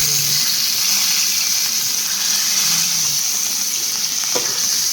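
Boiled meat fries in hot cooking oil with a loud, steady hiss and crackle that runs unbroken throughout, with no talking.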